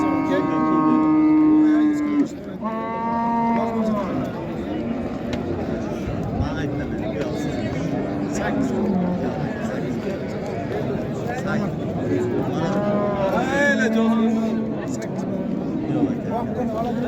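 Milking cows at a busy livestock bazaar in Karshi, several drawn-out moos rising and falling, near and loud, under constant bargaining voices and crowd chatter.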